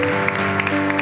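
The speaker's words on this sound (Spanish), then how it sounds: "Vamos, levante ese aplauso de resurrección." A church congregation breaks into applause, a brief burst of dense clapping over a sustained musical drone, loud and close.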